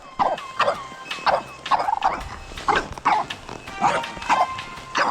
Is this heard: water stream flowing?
no